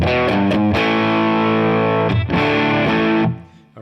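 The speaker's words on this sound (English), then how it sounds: "so if you use this alone as an overdrive" An electric guitar played through the overdrive side of a JDM Pedals Humdinger octave fuzz, a modded Foxx Tone Machine, rings out loud, gritty sustained chords with a few quick strums, then a pause and another held chord that cuts off.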